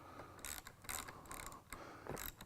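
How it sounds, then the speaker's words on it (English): A hand ratchet drives a bolt through a threaded section during a Corvette C5 seat repair, giving quiet, repeated clicking bursts in an uneven rhythm, close but faint. "use your ratchet to get it most of the way through that threaded section"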